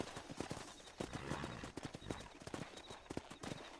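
Horses in the video game Red Dead Redemption, with a dense, irregular clatter of hooves on the ground and whinnying mixed in, fairly close and continuous against background noise.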